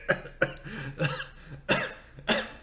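A person coughs about six times in a row, sharp close bursts spaced roughly half a second apart.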